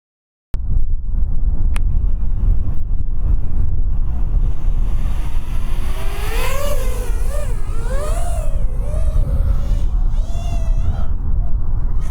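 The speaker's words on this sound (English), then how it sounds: "It's quite windy again" Steady wind buffeting an outdoor microphone, a continuous roaring rumble with gusts throughout, after a brief silent start; a faint wavering tone rises and falls midway.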